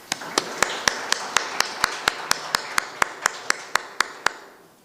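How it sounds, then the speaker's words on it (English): At a university entrepreneurship event, about seventeen sharp claps sound close by in a steady, evenly spaced rhythm and fade out at the end. "Can we give them a round of applause?"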